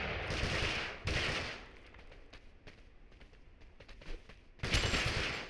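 Shotgun fire in the online battle royale game Totally Accurate Battlegrounds: a few loud, booming blasts with broad noisy tails, separated by quieter stretches of scattered smaller shots and clatter.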